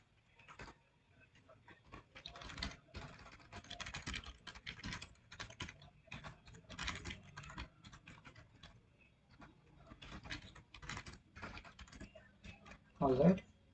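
C++ code typed on a computer keyboard, bursts of quick close key clicks with short pauses between runs, and a louder clack near the end.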